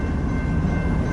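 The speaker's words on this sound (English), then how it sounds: "Here comes another coal train heading west, coming out of the yard" BNSF coal train rolling westbound out of the yard on the transcon line in Lincoln, Nebraska, a steady loud low rumble with dense rail noise filling the whole moment, no voices.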